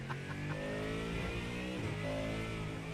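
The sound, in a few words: race car engine revving in iRacing video game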